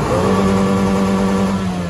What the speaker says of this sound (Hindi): 2700 सीसी इंजन है, इतनी हैवी आवाज आती है कट ऑफ एग्जॉस्ट की